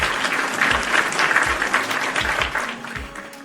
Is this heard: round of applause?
yes